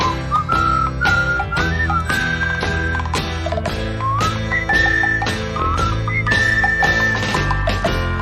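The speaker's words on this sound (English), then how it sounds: "And a happy little whistling tune." A bright, jaunty whistled melody from a song rides over a bouncy band accompaniment with clip-clop percussion, steady and upbeat throughout.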